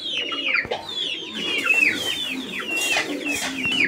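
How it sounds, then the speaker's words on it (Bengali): Jacobin pigeons at a pigeon sale coo and cluck close by, with overlapping bursts of calls layered over a busy market murmur. "প্রিয় দর্শক আমরা এই মুহূর্তে দেখতে পাচ্ছি এখানে আরো এক জোড়া জ্যাকোভিন কবুতর"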